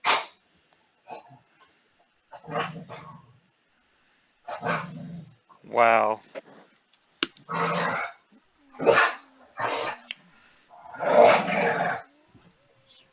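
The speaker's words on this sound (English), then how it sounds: "Is that your dog in the background?" A dog barks in the background in short, separated bursts, several sharp woofs spread across the stretch, mixed with people chatting over voice chat during a game session.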